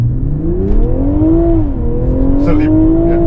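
A BMW Z4 M40i tuned to 387 horsepower accelerates hard, its engine note rising loudly in pitch, dipping briefly at a gear change, then climbing again, heard close from inside the car.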